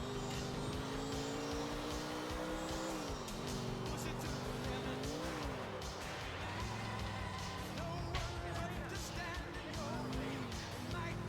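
A car in Grand Theft Auto IV drives with a loud continuous engine drone that rises and falls with shifting pitch, joined by tire squeals and skids, while someone talks over it.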